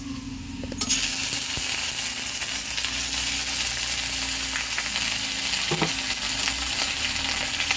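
Onion and green chili fry with ginger paste in a pan, a loud, continuous sizzle that bursts in abruptly and holds steady, with occasional clinks of stirring.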